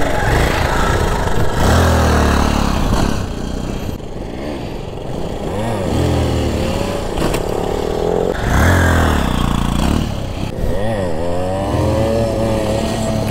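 A KTM motorcycle engine revs hard again and again during wheelie practice, its loud, close roar climbing and falling in waves for several seconds at a time, with short dips between throttle pulls.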